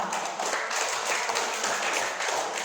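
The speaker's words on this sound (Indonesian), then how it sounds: "Boleh dong tepuk tangan." A room full of people claps together in a steady, moderately loud round of applause that carries on for a few seconds.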